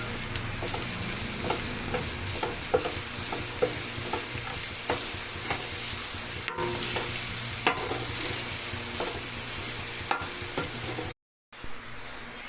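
Grated carrot stir-fried with sambar masala powder in a pan for carrot rice, a steady close sizzle with scraping stirs throughout, briefly cutting out near the end.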